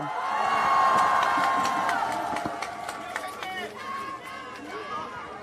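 A crowd at an outdoor political rally in Noeun Station square, Daejeon, cheers and shouts, the massed voices loud at first and then thinning into scattered calls and whoops.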